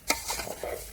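Rice with spices, masala powders and a little oil stirred in a pot for vegetable coconut pulao: a sharp spoon scrape followed by softer shuffling strokes, close and brief, with no talk.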